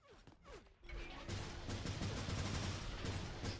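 Minigun fire in Unreal Tournament 4 during a 4v4 competitive match: after a short lull, a dense, continuous stream of rapid shots pours out loudly and without a break.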